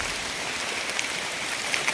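Steady outdoor rain falls as a soft, even hiss on a hillside during a mushroom-hunting walk, continuous and moderately quiet with a few slightly brighter drips.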